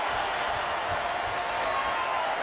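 Arena crowd at a college basketball game, Providence against Louisville, roaring and applauding after a layup, a dense steady wall of cheering with no pauses.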